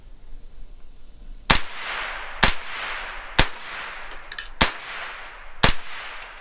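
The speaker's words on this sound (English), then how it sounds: "now we are here with the Smith & Wesson M&P 22, unsuppressed. Shoot that middle target over there." Five sharp, loud reports from an unsuppressed Smith & Wesson M&P 22 rifle fired at a target, spaced about a second apart, each followed by a brief ringing decay with no talking.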